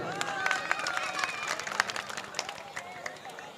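An audience at an Urdu mushaira in Madanpura Nayi Basti, Mau, breaks into sustained, moderately loud clapping, with murmuring voices and crowd noise running beneath.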